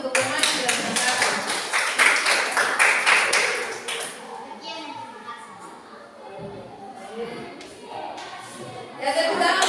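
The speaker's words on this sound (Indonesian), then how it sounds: "Yang tepuk tangan dulu untuk teman yang sudah menanggapi." A classroom of students claps for a classmate, a burst of brisk, close clapping from many hands that fades out after a few seconds, with chatter and voices continuing afterward.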